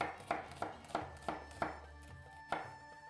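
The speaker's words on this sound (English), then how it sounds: "I'll cut some lemons up, not too small" A knife chopping lemons and a red onion on a board, with a run of about eight crisp, evenly spaced cuts, close and clear with no talking.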